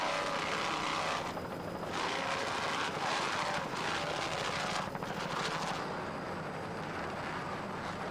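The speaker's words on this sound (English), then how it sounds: "Airborne, the leader in M-Class, is a 38-foot cigarette powered by two 800-horsepower Mercury inboards with Mercruiser drives" A 38-foot cigarette offshore racing powerboat with two 800-horsepower Mercury inboard engines and MerCruiser drives roars steadily at a Key West Grand Prix race, loud and constant, its pitch shifting slightly as it passes.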